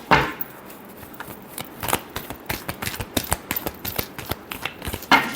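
Tarot cards being shuffled by hand during a reading, a run of quick crisp riffling clicks and soft slaps in an irregular rhythm, close and fairly quiet, with no talking.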